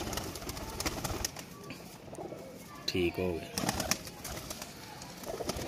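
A Kasoori pigeon coos in short low phrases, with one clear nearby burst in the middle, while someone talks intermittently around it.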